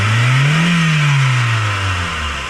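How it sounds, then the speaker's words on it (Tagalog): A Nissan Sentra GSX with low power, hard starting and a check-engine fault revs loudly and close, the engine note climbing, holding, then easing down. "Dati hindi ko ma-rev ng ganyan yan."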